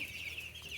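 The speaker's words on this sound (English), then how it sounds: "over here are our meat chickens, and they are getting huge" Meat chickens give soft, close clucks over a high, steady background chatter of birds in a brief snippet.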